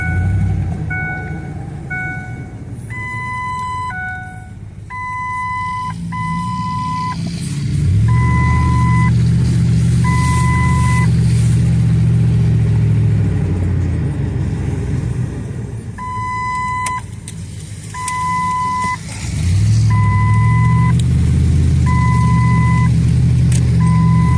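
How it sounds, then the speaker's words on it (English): A 2007 Ford F150 pickup engine with an aftermarket exhaust rumbles loudly and low, revving up twice over steady idling, with faint electronic seat belt chime beeps in the background. "Sounds like it's got an exhaust on it. Aftermarket exhaust. That sounds pretty loud, actually."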